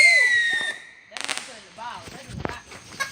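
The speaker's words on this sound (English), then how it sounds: "You shoot them out. Bottle Rocket!" Bottle rocket fireworks go off outdoors, with a rising whistle followed by a few sharp crackling pops and bursts, short and fairly near, as people talk and call out around them.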